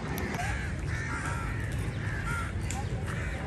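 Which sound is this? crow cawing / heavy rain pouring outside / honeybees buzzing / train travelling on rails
crow cawing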